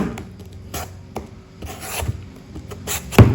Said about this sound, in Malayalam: ഇനി ഇതിന്റെ തൊലി ഒന്ന് പീൽ ചെയ്തെടുക്കുന്നുണ്ട്.